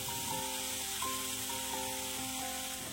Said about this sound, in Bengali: থোড়গুলোকে তেলের সাথে খুব ভালো